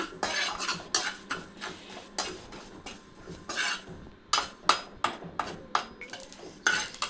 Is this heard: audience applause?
no